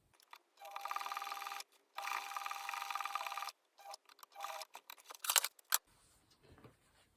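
A sewing machine stitches a seam on Regency breeches in several short, fast whirring runs separated by pauses. Clicks and fabric handling fill the gaps, and the sound stays quiet and close.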